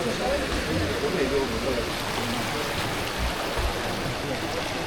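A river flows beside a restaurant in Morocco, a steady broadband rush of water close by, with voices talking over it.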